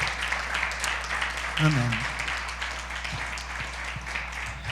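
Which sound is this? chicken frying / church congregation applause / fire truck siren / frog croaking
church congregation applause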